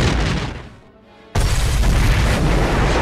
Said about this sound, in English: The bomb bay is hit, and the bombs are detonated, destroying the B-24 in a massive fireball